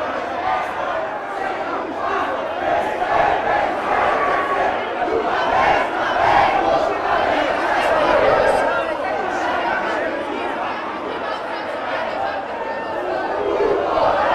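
Massed Flamengo football supporters sing the club anthem together in a stadium, a loud, sustained crowd chant that rises and falls in waves under a general roar of voices.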